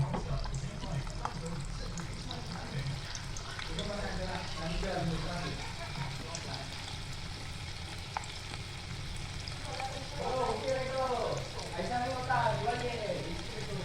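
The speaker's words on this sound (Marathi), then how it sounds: "हे असे आपण तळून घेऊया सर्व जे आता केलेले आहेत ते" Vegetable manchurian balls deep-frying in hot oil, a continuous dense crackling sizzle held at close range, with a person talking over it throughout.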